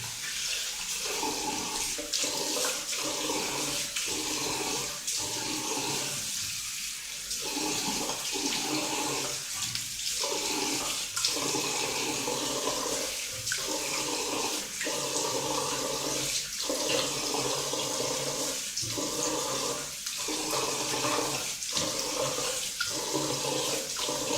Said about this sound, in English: So you need to rinse out your head with cold water.